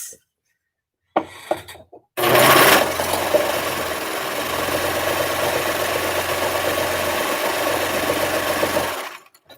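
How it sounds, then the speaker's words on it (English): Serger sewing machine stitching fabric, starting after a brief pause with a few faint taps, then a fast, even mechanical whir running steadily at close range for about seven seconds before stopping abruptly. "I have been serging for such a long time that I can turn the corners pretty easily"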